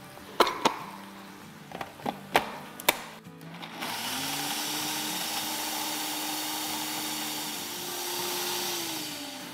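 An electric grinder whirs steadily as it grinds whole spices for chicken curry, starting after several sharp knocks and clicks of handling, then a continuous motor whine with a slight pitch rise near the end.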